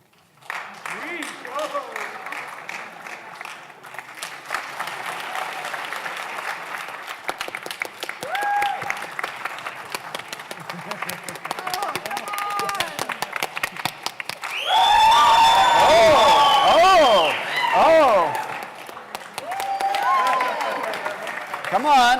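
Audience applause mixed with crowd noise at a live conversation event, steady clapping through most of the stretch, then a louder swell of cheering and shouting voices toward the end, with talk heard around it.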